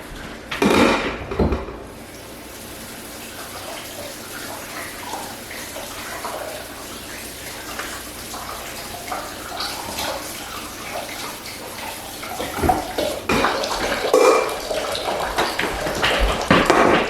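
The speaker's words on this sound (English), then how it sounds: "Going to give them a quick rinse off" Running water splashes steadily from a tap over blanched green beans for a long stretch, with a few knocks and clatters of items being handled nearby.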